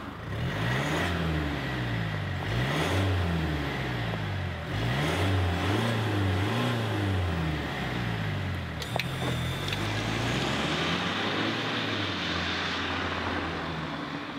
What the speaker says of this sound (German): wie sich der Wagen original anhört, wenn wir Gas geben und wenn wir beschleunigen